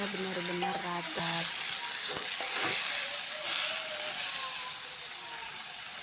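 Stir-fried water spinach, kangkung seasoned with spicy Liwa chili, is stirred in a hot pan: steady sizzling with scraping and clinking utensil strokes, close by, after a few brief tones at the start.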